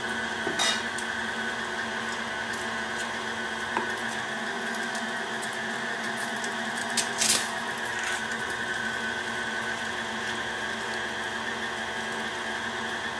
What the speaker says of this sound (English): At the end of the grinding process, I will speed up the grinder to get the last little bit passed through.